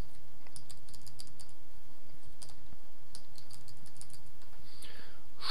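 Keys clatter on a computer keyboard as file names are typed into a text editor on a Linux desktop, a steady run of quiet, close taps with short pauses, and no one speaks.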